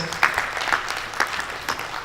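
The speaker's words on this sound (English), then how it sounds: "Please give her a round of applause." Audience applause for a dignitary at a professional women builders' association event in Nigeria, a brief burst of scattered hand claps from a modest crowd, fairly close with irregular rhythm.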